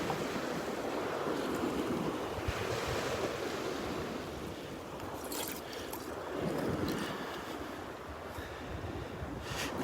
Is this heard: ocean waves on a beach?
yes